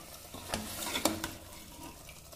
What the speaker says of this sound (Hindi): यहाँ पर हमने लहसुन का पेस्ट डाल दिया है और लहसुन के पेस्ट को भी अच्छे से मिक्स कर देंगे।